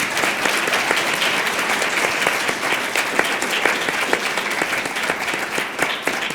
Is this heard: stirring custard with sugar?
no